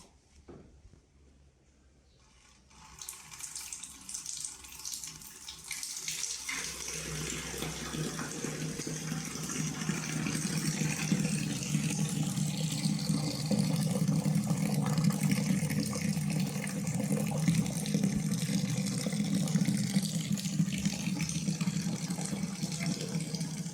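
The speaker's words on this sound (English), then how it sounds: "What we will do now is we're going to be transferring our wort to a sanitized" Beer wort from a homebrew day pours steadily into a sanitized fermenter, a continuous broadband splashing and gushing stream that starts quietly after a brief pause, then builds and holds loud and close without talk.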